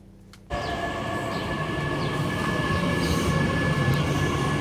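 A passenger train on a long journey runs steadily from about half a second in, with a loud, even rumble of wheels and carriage noise that holds to the end, heard from inside with no talking.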